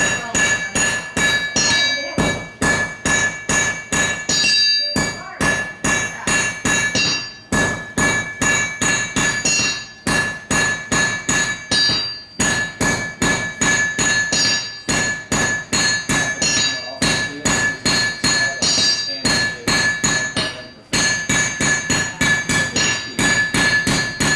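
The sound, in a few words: blacksmith hammering red-hot metal on an anvil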